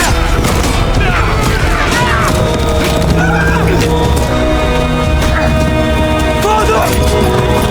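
Warhorse neighing amid a battle, a whinny over dense clashing noise, thuds and booms with hooves clopping, loud and continuous with voices mixed in.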